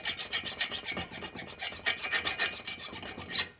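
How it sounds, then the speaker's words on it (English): A hand file rasps back and forth on a top-end engine part of a 1958 Harley-Davidson 74ci panhead, a quick steady series of close, gritty strokes with no talk. "I'm going to go ahead and try to file this a little bit"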